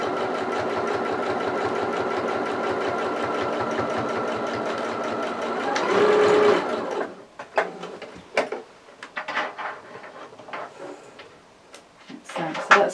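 A domestic sewing machine stitches fabric pieces of a toy's leg in a rapid, steady mechanical run for about six seconds, then falls silent, followed by scattered soft handling clicks and a voice speaking.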